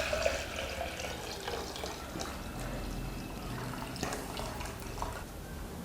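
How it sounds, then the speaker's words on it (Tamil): Water poured into a silver vessel, a soft steady trickle and splash with a few drips, faint and close, with no voices. "நான் தண்ணி நிரப்ப போகிறேன்."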